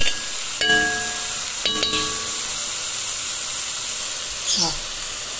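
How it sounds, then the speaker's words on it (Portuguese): Loud, steady sizzling and hissing of rice sautéing in lard in a pan, with a couple of sharp clanks of a utensil. "Refogando o arroz aqui."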